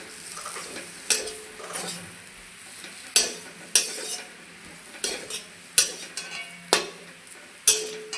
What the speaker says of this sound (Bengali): আমি ভাজা মশলা আর ধনেপাতা এখন ভালো করে মিলিয়ে নেব